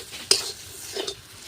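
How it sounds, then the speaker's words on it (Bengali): Spoon stirring mashed boiled potato filling as it fries in oil in a pan, with two short scraping strokes and a faint sizzle underneath. "আলুর পুরটা ভালো করে মিশিয়ে"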